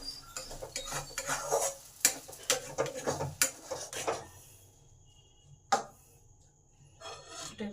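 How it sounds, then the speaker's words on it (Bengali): Spoon scraping and clattering in a pan while pea paste is stirred until dry for paratha filling, a run of close, sharp metallic knocks and rubs that thins out to a few isolated clinks. "এবারে পেস্টটাকে ভালো করে নেড়ে নেড়ে শুকনো করে নিতে হবে।"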